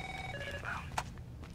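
A telephone rings in the video game Rainbow Six Vegas 2, with a short electronic ring tone repeating over low background game noise.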